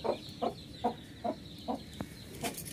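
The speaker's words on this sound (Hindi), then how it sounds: "ए मनीषा, चावल दे दो मुर्गी को," Village chickens cluck while being fed rice, giving about six short, evenly spaced clucks close to the microphone over a quiet background.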